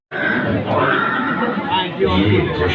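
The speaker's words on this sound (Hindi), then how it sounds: "ये दृश्य महाराणा प्रताप और सुविख्यात स्वामी भक्त घोड़े चेतक के अंतिम मिलन का है" Horse whinnying loudly and steadily over a dense, close sound bed, tied to a museum exhibit on Maharana Pratap's horse Chetak; a voice seems to run beneath it.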